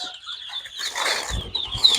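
Ducklings and ducks, including Blazing ducks, at a large poultry farm give brief flapping and rustling bursts with faint high chirps and low thumps, close by and fairly quiet, without voices.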